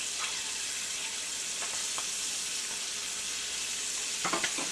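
Squirrel gravy cooks in a pan with a steady, close, bright sizzle and bubbling, with a few soft stirring scrapes toward the end and no talk.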